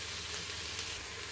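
Mutton trotters with salt and turmeric sauté in a pan, giving a steady, even sizzle with broadband crackle throughout, no voices.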